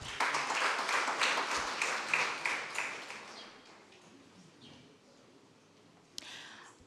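Audience applause at a peace, security and justice symposium in Musanze, Rwanda, greeting an Interpol official as he comes forward; fairly faint clapping that fades over several seconds, then a brief sharp sound near the end.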